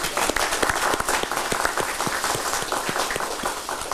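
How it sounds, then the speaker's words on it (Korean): A room full of people at a Korean government-party policy meeting applauds steadily, a dense wash of many hands clapping at even strength throughout. "박수를 좀 쳐주시기 바랍니다."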